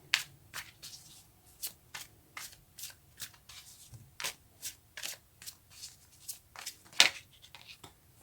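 Tarot cards are shuffled and drawn by hand, giving a close, quiet run of crisp riffling snaps and soft slides in an irregular rhythm, with no voice over them.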